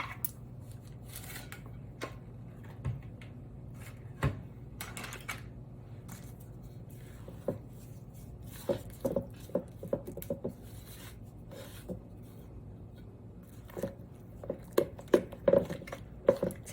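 A spatula scrapes and folds cream cheese Kool-Aid pie filling in a bowl, giving soft, irregular close-up clicks and smacks, sparse at first and growing busier toward the end, with no talking.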